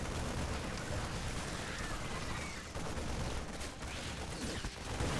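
Widow mine shots detonating during a StarCraft 2 TvZ match, with Terran mines against Zerg banelings: a continuous wash of crackling blasts and rumbling explosions at moderate level, with no voice over them.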